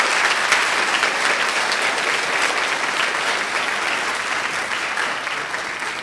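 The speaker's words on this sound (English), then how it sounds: "Please join me in giving them a big round of applause." Applause from an audience at a college speech night for the speech and debate team, dense and sustained clapping that fills the whole stretch at an even level.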